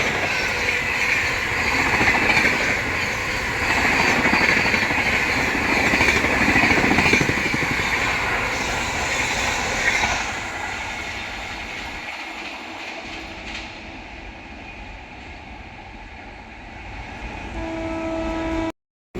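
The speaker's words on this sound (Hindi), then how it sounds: "रांची गरीब रथ एक्सप्रेस।" The Ranchi Garib Rath Express rumbles past nearby with steady wheel clatter and a long sustained horn, loud for about ten seconds before easing off and fading away; no voices.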